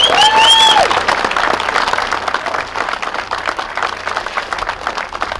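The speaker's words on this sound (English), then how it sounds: "Please give them a big round of applause." A crowd applauds loudly and continuously, with a few brief whistles rising over the clapping at the start.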